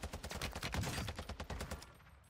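Rapid automatic fire from a TAQ-V rifle in Warzone rattles out as a dense, loud burst of closely spaced shots lasting about two seconds, then cuts off abruptly.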